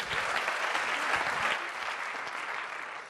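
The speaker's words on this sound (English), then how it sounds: "give him a big round of applause" An audience applauds a speaker being introduced onstage, a dense, steady wash of clapping from many hands that stays loud throughout and eases slightly toward the end.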